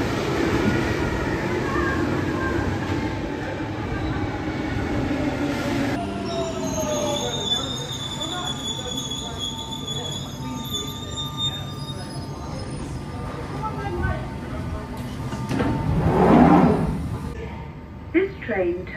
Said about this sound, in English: This train terminates at Stanmore.